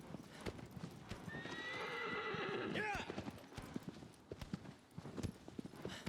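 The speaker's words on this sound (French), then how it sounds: "les hennissements d'aggro" A horse gives a long, loud whinny while hooves clop rhythmically beneath, followed by more hoofbeats and snorting, in the video game Shadow of the Colossus.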